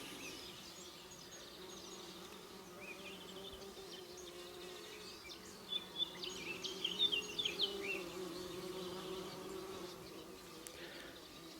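Bees buzzing around beehives, a soft continuous hum with louder buzzes as individual insects pass close in the middle, no talk.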